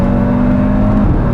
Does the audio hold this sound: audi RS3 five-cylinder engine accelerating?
yes